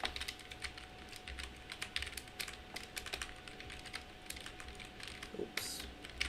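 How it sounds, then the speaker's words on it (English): Typing on a computer keyboard while searching for MSI Afterburner in a web browser: a steady run of close, crisp key clicks in irregular rhythm, with a brief pause and a burst of faster keystrokes near the end. "you want to go to the search bar and type up MSI Afterburner"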